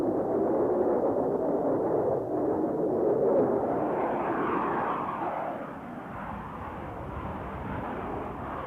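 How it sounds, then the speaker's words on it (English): A Crusader jet fighter roars past in a steady, loud sweep of engine noise that shifts in pitch as it passes, with no other sounds. "Canberra pilots were stunned to find this new American aircraft making vertical passes at their bombers."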